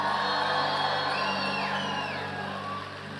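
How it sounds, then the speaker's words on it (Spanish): A church congregation shouts, whoops and cheers a victory cry to the King, a loud, dense crowd roar with high rising whoops and whistles that fades slightly toward the end. "Ponte de pie y dale un grito de victoria al Rey"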